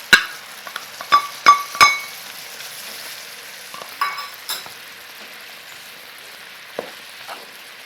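Grated ginger cooking in dissolved sugar syrup gives a faint, steady sizzle, with a few sharp utensil clinks and taps near the start and a couple of softer ones later.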